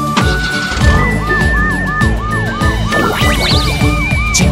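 A cartoon police car siren wails loudly in rapid, repeating up-and-down sweeps alongside a bright melodic tone, with a higher warbling siren layer joining near the end.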